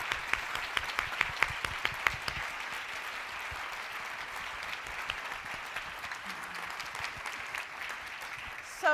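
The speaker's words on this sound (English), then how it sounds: "I would love to give a round of applause to the staff" A conference audience gives a round of applause for the event staff, steady clapping from many hands filling the room for several seconds before tapering slightly.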